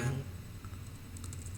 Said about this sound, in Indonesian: Lalu ini kita tulis dengan keyboard, ya.